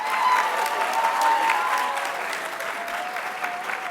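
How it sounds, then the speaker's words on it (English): A graduation ceremony audience gives a warm round of applause for a sixth form teacher, steady clapping filling the hall with a faint tonal hum beneath. "Guys, can we get a round of applause for Miss Shazia, please?"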